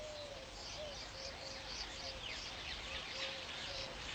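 A nest-building bird calls repeatedly in short whistled and cooing notes, moderately close, over a steady outdoor hiss of other birds and ambient noise.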